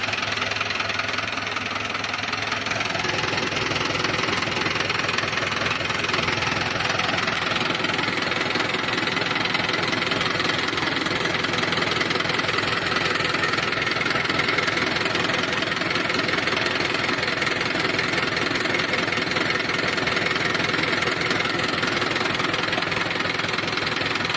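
A Swraj 841 XM tractor engine runs steadily with a continuous mid-to-low rumble and knocking rhythm, close and constant throughout with no talk.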